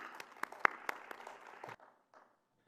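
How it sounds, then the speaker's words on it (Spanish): A handful of separate claps from an education conference audience, one louder clap standing out, fading to near silence after under two seconds. "Un fuerte aplauso"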